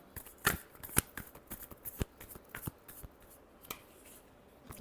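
Tarot cards shuffled by hand in a close series of crisp riffling flicks and soft slaps, with a few sharp snaps standing out, alone with no voices.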